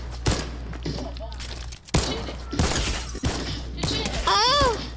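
Sharp gunshots in the video game Fortnite, including a sniper rifle crack, a few loud close bangs with impact clatter scattered among game sounds, while a voice talks over them.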